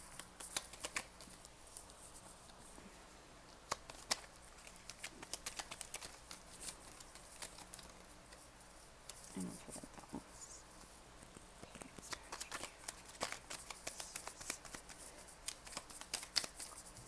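Tarot cards are shuffled and pulled in a quiet room, a faint, continuous riffling and slapping patter of card edges that runs throughout without talk.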